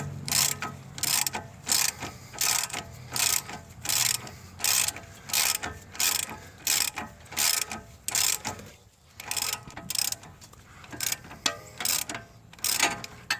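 A ratchet wrench snugs a self-locking nut on the passenger-side CV axle of a 2008–2013 Nissan Rogue, giving a loud, close, steady run of rhythmic ratcheting clicks in repeated strokes with one brief pause.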